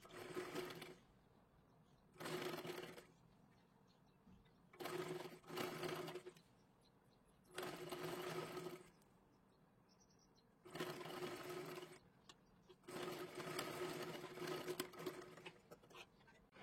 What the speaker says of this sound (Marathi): व्यवस्थित शिलाई मारून घेतली